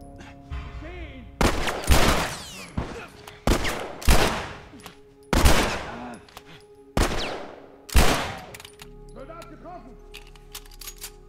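Gunfire from the video game The Last of Us in an abandoned village: six loud, sharp shots spaced about a second apart, each ringing out with a short echoing tail, with quieter game ambience between and after.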